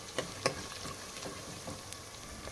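Onion frying in a pan for tomato pappu: a steady, soft sizzle and crackle with a couple of sharp ticks of stirring, close and alone.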